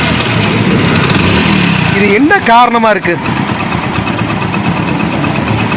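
A Hero Splendor motorcycle engine runs steadily after a self-start, a continuous idling drone throughout, with someone talking over it in the middle.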